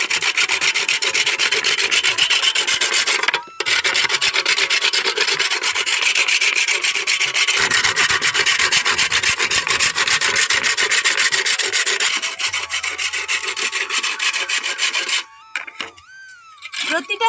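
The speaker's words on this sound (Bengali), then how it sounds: "এই ছিদ্রগুলোর মধ্যে এই প্রদীপগুলো এইভাবে ঘষে নেবে" A clay lamp is rubbed over the holes of a metal grater to sharpen them, giving a loud, continuous harsh rasping with a brief pause early on and a fade near the end.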